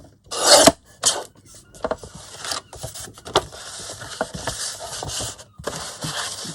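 Scissors cutting through an altered file folder to trim it down to size, giving a close, crisp rasping snip followed by a run of softer scraping cuts and paper rustles, with no talking.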